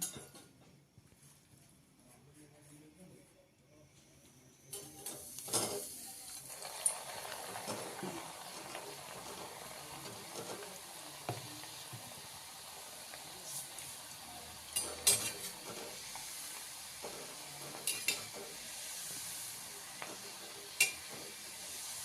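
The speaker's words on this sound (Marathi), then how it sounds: "तेल गरम झाले आपण तळून घेऊया" Shankarpali dough pieces frying in hot oil over a low gas flame, a steady soft sizzle that rises after a few quiet seconds, with occasional clinks of a metal utensil stirring in the pan.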